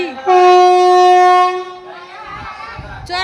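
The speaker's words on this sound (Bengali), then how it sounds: "না ট্রেন ছাড়বে ট্রেনের সামনে একটা ভিডিও করবো" A train standing at a station about to depart, sounding a long loud horn blast, then station noise and a short second blast, with people's voices nearby.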